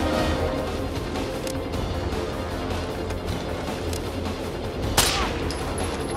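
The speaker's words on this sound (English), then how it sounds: "who's shooting me?" Dense gunfire from the tactical shooter game Rainbow Six Vegas 2 rattles steadily throughout, with a sharper burst or impact near the end.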